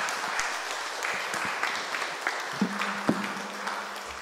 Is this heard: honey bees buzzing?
no